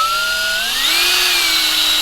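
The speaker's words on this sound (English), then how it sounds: "So the next step is to break out the drill." An 18 volt power drill runs with a loud, steady whine that climbs in pitch as it speeds up, then holds high and even, with no talking.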